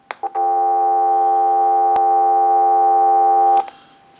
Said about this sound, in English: So we'll hit the flash button. That'll give us dial tone again.